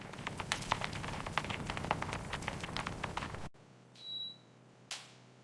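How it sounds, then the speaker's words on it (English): After a stretch of soft crackling, a shell of tempered chocolate gives a single sharp, crisp snap close by and quietly, followed by near silence. "Listen to that snap. That's the sound of perfectly tempered chocolate."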